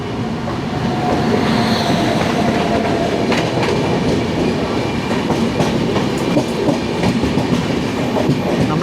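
Kerala Express passenger train rolling past on an Indian railway line, a loud continuous rumble with rhythmic clickety-clack of wheels over rail joints, close by and heard without talk.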